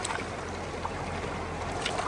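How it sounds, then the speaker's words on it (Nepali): Cold river water of the Melamchi Khola rushes steadily past, a dense, even wash of flowing water with no pauses, close and moderately loud throughout. "ल पानी बगेको छ"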